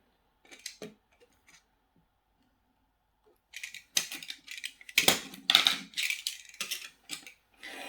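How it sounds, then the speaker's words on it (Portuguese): An X-Acto craft knife slices through cardboard for a small box, giving a few faint scratches early on and then a close, busy run of sharp scraping cutting strokes in quick succession. "A gente vai pegar o X-ato. Já vai cortar ela aqui."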